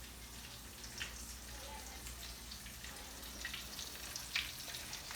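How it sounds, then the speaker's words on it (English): Polish-style meatballs fry in oil, a faint, continuous sizzle and crackle with a few sharper pops rising above it. "So we roll these, we get them into the oil."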